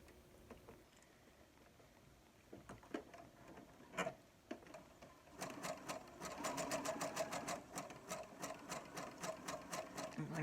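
A Brother SE400 sewing machine stitches in short tentative bursts, then runs steadily in a fast, close rhythmic clatter of needle strokes, quiet overall.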